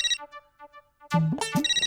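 A telephone ringtone going off late at night: a bright electronic melody of short repeated tones, fairly close and clear, with no talking.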